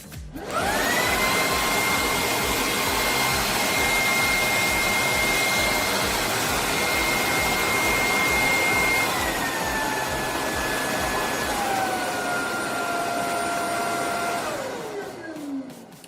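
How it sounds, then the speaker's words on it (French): A BISSELL Icon 21V cordless stick vacuum cleaner whirs steadily with a high motor whine, holding pitch for several seconds, then dropping in tone before cutting off near the end. "Donc je mets en marche l'aspirateur."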